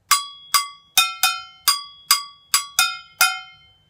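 A frigideira, the small metal samba pan struck with a stick, rings out in an old-school rhythm: nine bright metallic clanks in uneven groupings, each strike sharp and ringing briefly, alone and close.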